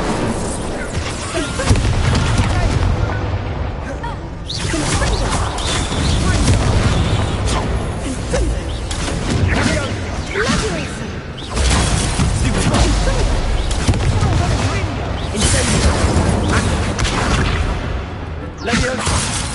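Incendio fire spells and other combat magic clash in Hogwarts Legacy, a dense continuous roar of bursts, whooshes and crashes mixed with spoken spell calls throughout.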